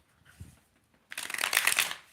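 A deck of playing cards is shuffled close by, a quiet rustle and thump first, then a louder, sustained riffling burst through the second half.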